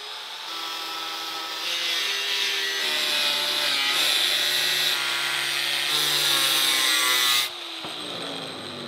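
A power tool trims a lower car door panel in a continuous, loud, close grinding whine for about seven seconds, then changes tone as the cut ends.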